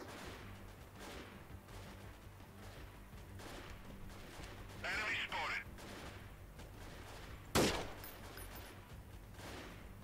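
Gunfire in the video game Freeman: Guerrilla Warfare during a town assault: faint, scattered distant shots under a low background hum, a short burst midway and one sharp, louder crack near the end.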